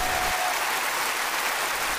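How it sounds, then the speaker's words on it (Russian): Sustained ovation from a packed cinema audience at a Berlinale documentary screening, a continuous wash of many hands clapping at steady moderate level with no voices on top. "И вот эти овации тоже не спецэффектом и не голливудским звездам"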